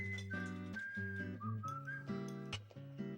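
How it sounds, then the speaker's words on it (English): Jaunty whistled theme melody from the horror video game Deadly Premonition, a clear bouncing tune carried by whistling over light backing music, steady and upfront throughout. "This jaunty ass whistling theme for a horror movie game."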